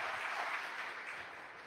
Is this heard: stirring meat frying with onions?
no